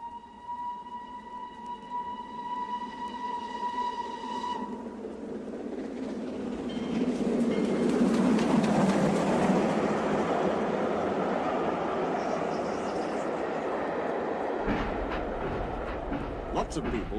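A steam locomotive from a model-railway story remake runs along the track, a loud, steady rumbling clatter that swells midway and holds. Sustained whistle-like tones sound before it.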